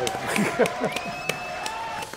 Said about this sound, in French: applaudissements pour Irka Boshenko